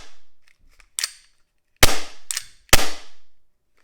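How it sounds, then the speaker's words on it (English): A BB simulation pistol used for security guard firearm training cycles its slide with no BBs loaded, giving several sharp, loud, close mechanical snaps with a pause between them, with lighter clicks before them. "they rack the slide backwards, okay? And it should go forward"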